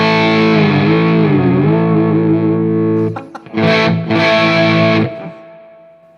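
An electric guitar through a Laney Lionheart L20H amp with just a cable rings out a sustained, distorted chord that bends and wavers, then two loud crunchy strummed bursts follow before it cuts out.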